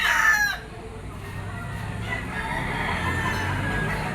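Young gamecocks at a Lipa poultry auction market: one crow rings out up front, then fades into a dense background of farm-animal clucking and low market murmur.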